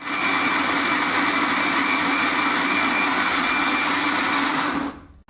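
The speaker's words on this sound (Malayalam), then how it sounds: "ഇതെല്ലാം കൂടെ കൂട്ടി ഞാൻ ഇത് മിക്സിയിൽ അരയ്ക്കാൻ പോവുകയാണ്." Mixer grinder whirring loudly and steadily as it grinds coconut and spices with water for moringa leaf dosa batter, a continuous motor roar that cuts off near the end.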